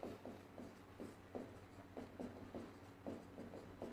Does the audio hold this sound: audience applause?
no